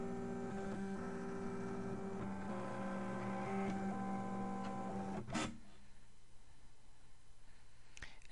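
A cutting machine slices paper along black cut lines during a print and cut job for a kaleidoscope pyramid box, giving a steady mechanical whir with tonal motor hum for about five seconds before stopping abruptly, leaving quiet room tone.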